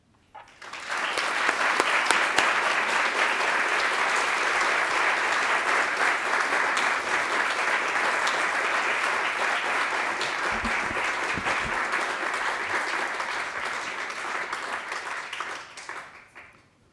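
Sustained audience applause welcoming keynote speaker Willie Jennings at a talk on Christianity, race and mass incarceration, steady and full for about fifteen seconds before fading out.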